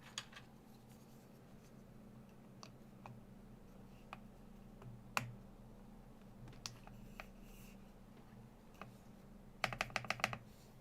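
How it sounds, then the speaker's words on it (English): A Linky87 mechanical keyboard being typed on, scattered sharp clicky keystrokes and spacebar presses at close range, ending in a quick burst of rapid taps. "That's a spacebar."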